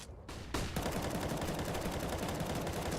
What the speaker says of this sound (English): Oh, the nades are falling